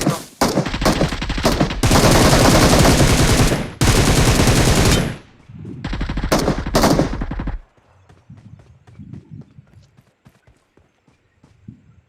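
Gunfire in a shooting video game: loud, rapid automatic bursts fire in long sustained volleys, then give way to scattered fainter shots and clatter.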